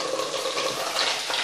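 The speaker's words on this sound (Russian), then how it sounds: "Вот она, видите, у меня жарится тут." Peeled potatoes fry in a skillet with a brief, steady close-up sizzle and crackle, and no voices over it.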